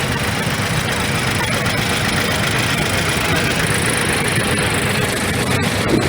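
A John Deere Model 50 tractor of 27 horsepower rolls by in an old engine show parade, its engine running steadily and loudly in a dense, continuous rumble with crowd noise around it.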